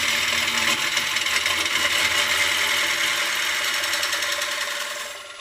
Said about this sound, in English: Feed the gouge through my fingers and we start getting this bit of shape.